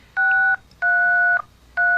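Touch-tone telephone dialing: three clear, loud DTMF beeps of varying length, each cut off by short pauses, close to the phone with no talking.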